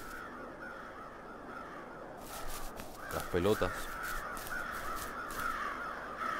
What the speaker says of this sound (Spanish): Pájaros.